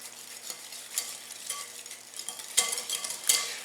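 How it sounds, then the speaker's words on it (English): Pumpkin puree is whisked into pie filling in a bowl, giving soft rhythmic wet swishes and light tapping clinks of the whisk against the sides, quiet and close. "whisk in the pumpkin puree"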